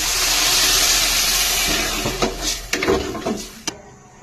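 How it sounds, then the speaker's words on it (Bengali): Water is added to a hot frying pan of browned meat: a loud, steady sizzling hiss fills the first half, then breaks into sputtering crackles and pops as it gradually dies down. "এবার ভাজা ভাজা হয়ে গেছে, এবার জল দিয়ে দেব।"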